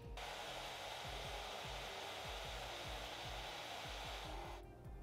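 A hair dryer on its cool setting blows steadily over false eyelashes, close and continuous with a broad airy roar and a faint rhythmic rubbing underneath, cutting off near the end.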